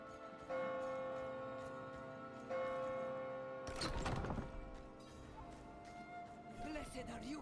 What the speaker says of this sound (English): Church bells, bro.